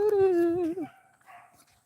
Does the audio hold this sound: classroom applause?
no